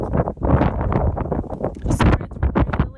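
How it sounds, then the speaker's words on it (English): Strong gusts blow across a hilltop at Signal Hill near Cabot Tower, battering the microphone with loud, rough, fluctuating rumbles and buffeting in uneven bursts. "it's really windy and cold"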